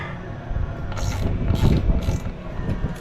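Ratchet wrench loosening bolts, with several short bursts of rapid clicking over a low mechanical rumble, close up and fairly loud.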